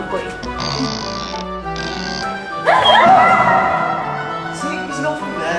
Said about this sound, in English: He's a dog.